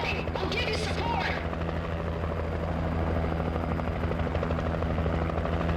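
A helicopter in Alan Wake Remastered drones steadily with a loud, continuous rotor throb and engine hum throughout, with a brief voice near the start.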